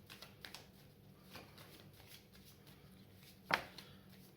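Oracle cards being shuffled by hand: faint, soft riffling and rustling through a quiet stretch, with one sharper snap of cards near the end.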